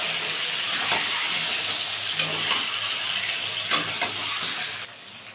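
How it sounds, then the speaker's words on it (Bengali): Chicken pieces frying in a pan with no salt or turmeric give a steady, bright sizzle with a few soft stirring clicks, then the sound drops away abruptly near the end. "চিকেনটা ভাজা হয়ে গেছে।"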